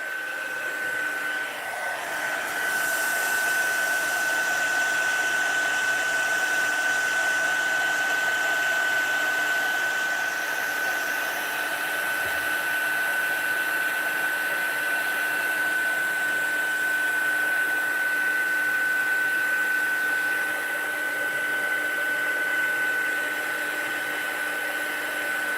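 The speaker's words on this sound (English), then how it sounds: "I am going to whack up the heat gun and put it underneath the microphone" A heat gun running continuously right beside a microphone, a steady loud whooshing blast with a sustained high whine that holds for the whole stretch with no talking.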